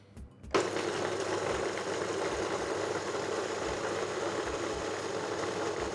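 A large kitchen blender whips chilli jam paste with a generous splash of oil, its motor starting abruptly after a brief pause, then holding a loud, continuous whirring drone.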